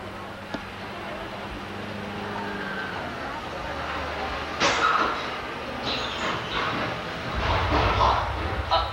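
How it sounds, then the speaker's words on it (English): Universal Studios tour tram from 1989 rumbling steadily along its route, a continuous mid-distance mechanical drone with a louder surge near the end, heard beneath people talking. "Oh no, the tram's making too much noise."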